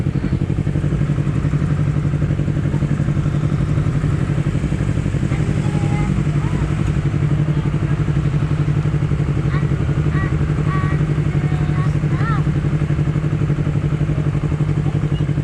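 A Honda CBR250RR motorcycle engine runs steadily up close, its loud low drone continuous throughout with faint clatter and background voices.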